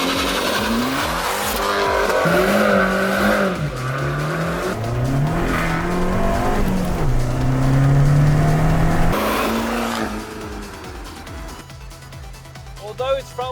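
An Abarth 595 Competizione with a 1.4 litre four-cylinder turbocharged engine and five-speed manual, its engine note rising and falling through gear changes while driving, loud and close, with a person talking over it before it fades near the end.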